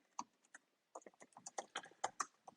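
Keystrokes on a computer keyboard as search keywords are entered, a quiet, irregular run of soft clicks that begins with a few isolated taps, pauses briefly, then becomes a denser burst of typing.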